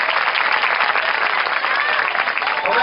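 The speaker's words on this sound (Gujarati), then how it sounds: "દરેક ટીમ માટે જોરદાર તાળીઓ" Loud, steady applause from a crowd at a devotional kirtan antakshari event, dense clapping that holds for a few seconds.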